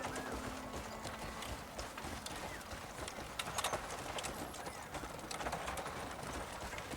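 Horses pull a cart along a path in the video game Crimson Desert, with steady, fairly quiet hoof clip-clops and light rattling under a soft ambient bed.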